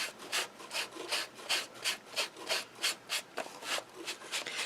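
Excess paper flake pieces from a die cut being scrubbed away, a quiet rhythmic back-and-forth rubbing of about a dozen even strokes at close range, with no talking.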